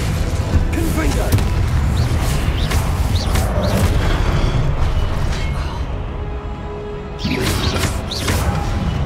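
A Confringo blasting spell explodes in the Hogwarts Legacy video game, a loud sustained booming blast with crackling debris that briefly drops away and then surges again, dense and close throughout.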